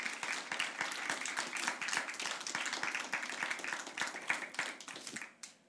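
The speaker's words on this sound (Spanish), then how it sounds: "¿Le podrás dar un aplauso?" A church congregation breaks into sustained applause, many hands clapping densely and evenly for several seconds before it cuts off abruptly near the end.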